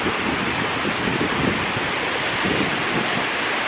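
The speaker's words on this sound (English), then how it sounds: "more of the little waterfall in this little bridge area here" A small waterfall by a little footbridge makes a steady, broad rushing wash of falling water, continuous and fairly loud with slight surges, and no voices.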